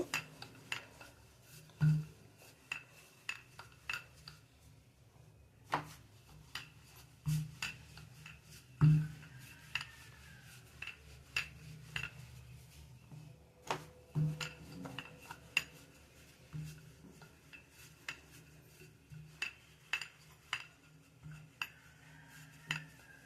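Rolled wheat dough being cut into shapes for crunchy biscuits: faint, intermittent taps and light clinks of a cutter on a board, scattered sharp ticks over a quiet kitchen background, with no voices.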